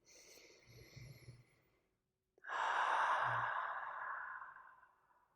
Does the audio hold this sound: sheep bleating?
no